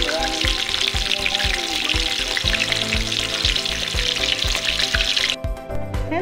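Chicken pieces fry in a pan until golden brown with rice cooking nearby, a loud continuous sizzle and crackle close up, with soft rhythmic taps underneath, cutting off near the end.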